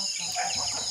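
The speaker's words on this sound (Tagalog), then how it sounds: "mga manok na ko si gadagan" Farm chickens being fed make a brief, close cluck or call, a short fowl vocalization over a faint high hiss of background noise.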